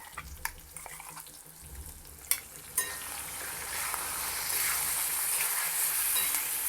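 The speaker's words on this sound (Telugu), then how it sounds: "వేసుకుని కొద్దిగా పచ్చి వాసన పోయే వరకు వేయించాలి" Ground karonda (vakkaya) paste frying in a pan, a few stirring scrapes and clicks at first, then a steady broad sizzle that swells and holds loud to the end, with no voices.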